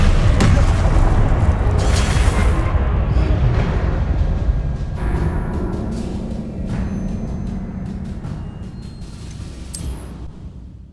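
Spell explosions in Hogwarts Legacy on PC boom heavily and rumble in a dense, continuous barrage, loud at first and then easing into scattered crackling bursts and pops.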